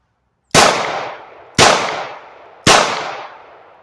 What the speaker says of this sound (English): we're going to go back to 7 yards and we're just going to shoot straight forward